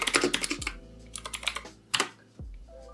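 Fingers type on a computer keyboard in rapid, uneven runs of crisp key clicks with a few heavier thumps, close and clear with no talking.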